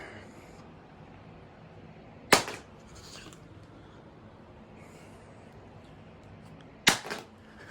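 A Motorola Moto phone is dropped face-down onto its screen during a drop test, giving two sharp, isolated clacks of impact several seconds apart against a quiet background.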